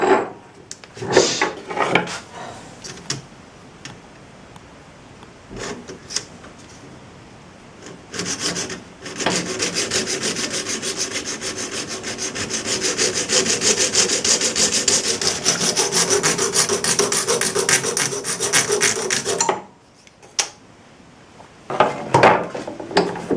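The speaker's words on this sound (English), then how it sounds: "Going to cut that off with a junior hacksaw." A junior hacksaw cutting: a few scattered knocks and scrapes, then about ten seconds of rapid, steady rasping strokes close by, ending abruptly, followed by a few clunks and no talking.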